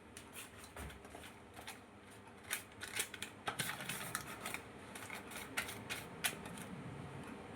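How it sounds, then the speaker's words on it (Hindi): Scissors snip through butter paper, trimming it to fit a cake container: a series of crisp, close cuts with small rustles of the paper, getting denser and sharper toward the end. "बटर पेपर को कंटेनर के साइज में काट लेते हैं"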